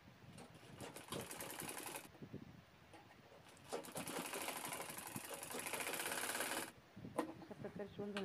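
A sewing machine sews the side seam of a women's fabric shopping bag in two close, steady bursts of rapid stitching, with a short pause and light handling between them.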